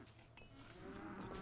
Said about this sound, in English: The cows eat on the vampire cow farm.